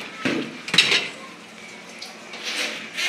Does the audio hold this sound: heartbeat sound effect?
no